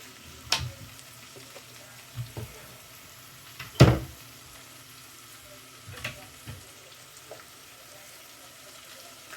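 Food sizzles in a frying pan while an omelet filling seasoned with garlic powder, salt and pepper cooks, with a steady quiet fry broken by a few louder stirring scrapes and clatters.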